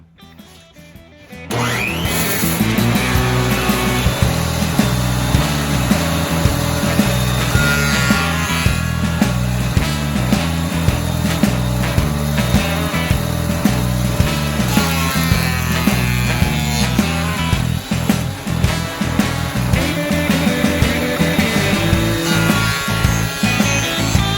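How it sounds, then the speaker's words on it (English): A thickness planer smooths a glued-up wooden napkin holder, starting after a brief quiet moment, then a loud, steady, continuous machine roar with cutting noise that runs to the end. "I'm gonna run it through the thickness planer just to smooth it out"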